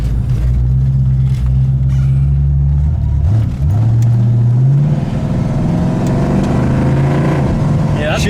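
A 1968 Mercury Cougar XR7 engine idles with a loud, low rumble close by, then its pitch climbs and settles higher once the air conditioning switches off.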